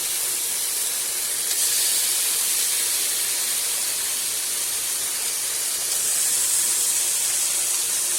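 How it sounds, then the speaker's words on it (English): Turkey bacon sizzles loudly in a pot, a continuous bright hiss that holds steady throughout with no talk. "Get our turkey bacon up in there."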